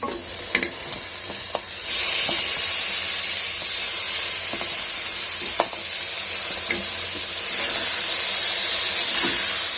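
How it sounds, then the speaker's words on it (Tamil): Banana flower is sautéed in ground masala for biryani, starting with a few clatters of the florets and spoon, then a loud, steady close hiss of frying with occasional stirring scrapes throughout. "வாழைப்பூ சேர்த்து நல்லா வதக்கிட்டாங்க."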